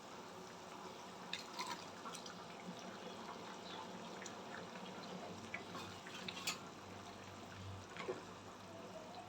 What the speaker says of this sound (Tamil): பாருங்க, குழம்பு நல்லா கொதி வந்துடுச்சு.